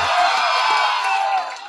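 Crowd at a film first-look event for the Tamil movie Bomb, dense continuous applause and cheering that rises loud and then tapers slightly at the end.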